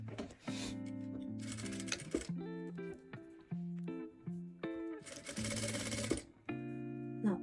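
A sewing machine stitches a sweatshirt seam in two rapid bursts of whirring, set against steady tonal background music that carries through the pauses.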